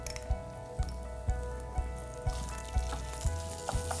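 Garlic, ginger, chopped red chilli, cloves and spices frying in ghee for a Mangalorean chicken ghee roast, a steady close sizzle punctuated by regular stirring knocks about every half second, with no talk.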